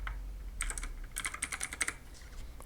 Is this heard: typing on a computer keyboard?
yes